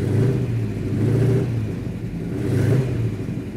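A Plymouth Superbird conversion with a rebuilt manual transmission drives under power, its engine giving a steady loud rumbling drone that swells twice as it accelerates.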